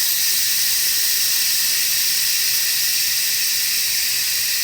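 Pressurized steam vents from a coffee maker while making an Irish cappuccino, a continuous, loud, close hiss that holds steady without pause.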